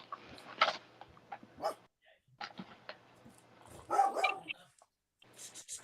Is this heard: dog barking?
yes